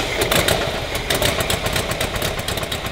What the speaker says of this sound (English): you start cranking this motor and you got a running motor